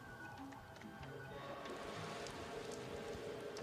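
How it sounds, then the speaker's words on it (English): Steady rain from a virtual reality storm simulation used in phobia therapy, a dense, even patter of drops holding at a moderate level throughout, with faint ticking and a brief low voice underneath. "Dr. Barbara Rothbaum uses a computer simulation of a storm"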